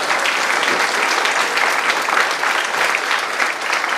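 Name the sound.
students applauding presenters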